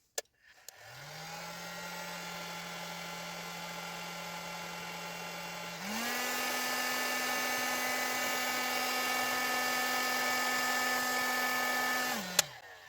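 A hair dryer whirs on with a steady motorized hum, steps up to a higher, louder setting partway through, then clicks off.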